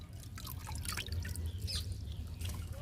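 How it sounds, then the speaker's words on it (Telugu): Homemade liquid fertilizer trickles and drips steadily onto the soil around a guava plant, a soft, close pouring sound that runs the whole time. "లిక్విడ్ ఇచ్చేద్దాము జాము మొక్కకి జాము మొక్కకి వేసేద్దాము"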